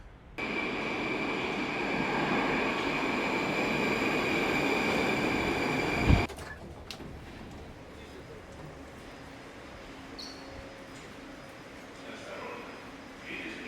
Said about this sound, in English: Oh, and there goes a train.